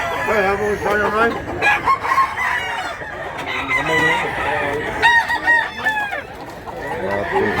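Several roosters crow one after another, close and loud, with hens clucking in between and a busy barnyard clamor throughout, in Mantalungon, Cebu.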